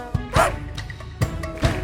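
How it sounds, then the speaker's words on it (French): A little dog barks in a children's song, giving several short, close yips and bow-wows in quick succession, fairly loud and clear. "Le petit chien, petit chien, petit chien."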